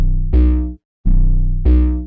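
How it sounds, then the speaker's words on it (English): Three heavy, buzzing 808 bass hits distorted with a Guitar Rig effect, gritty and saturated; each note sustains then cuts off, separated by brief gaps. "I just made it really distorted by adding that guitar rig filter"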